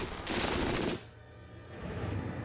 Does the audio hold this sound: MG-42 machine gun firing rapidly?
yes